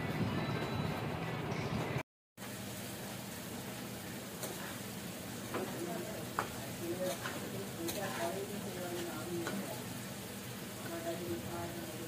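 Shredded cabbage fries in a pan in a home kitchen, a steady hiss of sizzling with occasional scraping stirs, while someone talks over the cooking.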